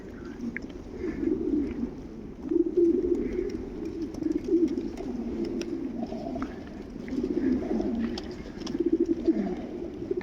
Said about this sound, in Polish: Czy to nie piękny odgłos, jak one tutaj gruchają.